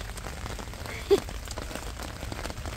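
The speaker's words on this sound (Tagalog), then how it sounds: "Ay, maulan." Rain falls steadily on a small vegetable garden, a soft continuous patter of drops on leaves and surfaces with one brief louder tap, fairly quiet and close, with no speech.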